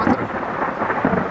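Thunder rumbling during a summer storm in Moravia, a low, rolling roar with two swelling bursts, fairly loud and steady, heard alone without voices.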